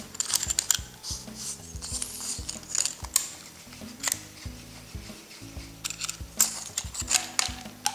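Part of a plastic piston syringe for polymer clay jewellery being unscrewed, giving a close run of small plastic clicks, creaks and scrapes in uneven bursts, no speech.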